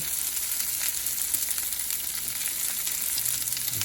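Bacon sears in a hot pan with a steady, dense sizzle that holds loud and close throughout, broken by a few faint crackles and pops, with no voices.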